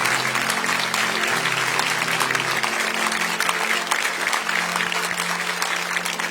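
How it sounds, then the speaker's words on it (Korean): Sustained applause from a church congregation during a sermon, many hands clapping in a dense, even roar that holds steady from start to end, with a faint low hum underneath. "격려의 박수 하겠습니다"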